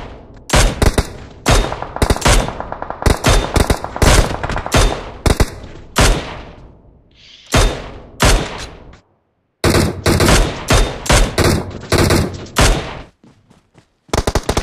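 Gunfire in the PUBG battle royale game, with rapid bursts and single shots cracking loudly in clusters across the stretch, separated by brief pauses and one short silence.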